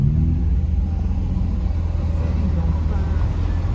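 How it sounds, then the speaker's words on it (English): A Lamborghini Huracan and a Ferrari give off a continuous deep engine rumble nearby, loud and unbroken for the whole stretch, with what may be faint voices mixed into the low drone. "I hear something. A hurricane. And the Ferrari."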